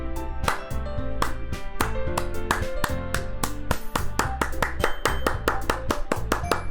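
A steady, dense round of applause in a video game, many hands clapping in quick, continuous rhythm, fairly loud and close, no voices.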